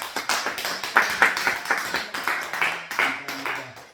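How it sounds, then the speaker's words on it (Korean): Clapping from a small group at a church sermon, separate claps audible in an uneven rhythm, with faint voices underneath. "감사의 박수를 드립니다"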